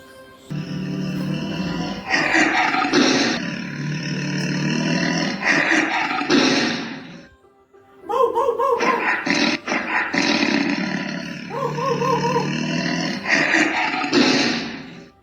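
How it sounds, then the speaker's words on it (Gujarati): Two long, loud roars from a tiger in a children's cartoon, rough and growling, separated by a brief silence, each rising and rumbling for several seconds. "મિત્રો ભાગો ભાગો, વાઘ આવ્યો, વાઘ આવ્યો"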